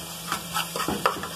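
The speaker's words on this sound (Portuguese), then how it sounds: "E vou deixar fritar." Store-bought ready-made seasoning frying in a pan for lentils, a soft sizzle with a few brief stirring scrapes, close and fairly quiet, no talking.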